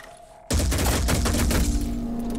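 Dense burst of overwatch gunfire erupts in the tactical video game Phoenix Point, a loud rapid fusillade of overlapping shots starting abruptly after a quiet moment and continuing without pause.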